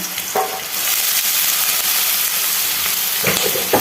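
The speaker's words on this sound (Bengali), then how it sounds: "কড়াইতে তেলটা গরম করার পরে আমি এই কচুগুলোকে এর মধ্যে দিয়ে নেবো" Taro pieces fry in hot oil in a wok with a loud, continuous sizzle and bubbling hiss that holds steady throughout, without speech.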